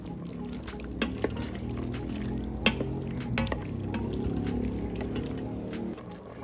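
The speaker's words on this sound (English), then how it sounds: "Time to turn this into a rosé sauce by adding the cream or milk" Cream or milk poured into a pot of shrimp farfalle pasta: a steady liquid pour with soft sizzling underneath and a few sharp clinks of a utensil against the pot along the way.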